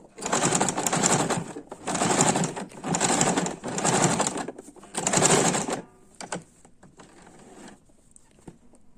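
A sewing machine stitches a zigzag ornament on a patchwork quilt, running in five loud, rapid whirring bursts with short pauses before stopping, then faint handling noises.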